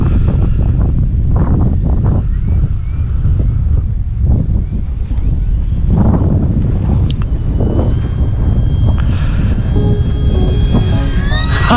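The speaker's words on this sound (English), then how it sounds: "that wind's blowing it around" Strong wind roars steadily across the microphone at an RC flying field as an E-flite 1.2 m Corsair model plane flies in high winds, with a thin faint engine whine rising near the end.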